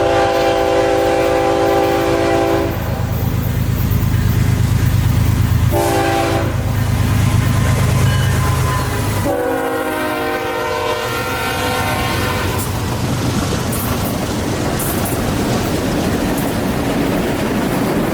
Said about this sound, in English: The BNSF deadline through Bushy Head, Oklahoma had lots of GP locomotives and one white-faced Burlington Northern GP 38.